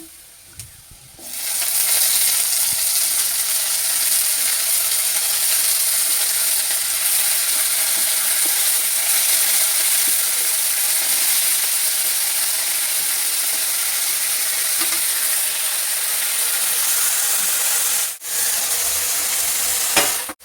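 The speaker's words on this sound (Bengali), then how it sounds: "নিয়ে এবার মাছটা আস্তে আস্তে ওর মধ্যে দিয়ে দিচ্ছি।" Fish slid into hot oil over fried chopped onion bursts into a loud, dense sizzle that starts after a quiet second and holds steady, briefly dipping once near the end.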